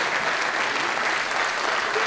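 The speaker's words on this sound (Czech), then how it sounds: "jmenuje se Jirka Mach, přivítejte ho, prosím vás, potleskem." An evening workshop audience welcomes a singing teacher to the stage with dense, steady applause that fills the room at moderate volume throughout.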